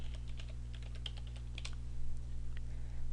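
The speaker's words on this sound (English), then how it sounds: "so let's type in SU, and type in your password" Password being typed on a computer keyboard at a Linux terminal: a run of light, irregular key clicks over a steady electrical hum, with no voice.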